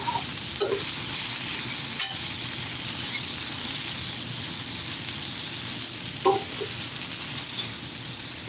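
Sausage browns in a hot pan with a steady, close sizzle and hiss, broken by a few brief clinks and scrapes of stirring.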